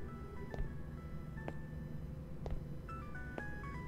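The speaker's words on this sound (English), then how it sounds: "I remember that ringtone" A mobile phone ringtone in the video game Araya plays as a faint, repeating electronic melody of short tonal beeps over a low ambient background.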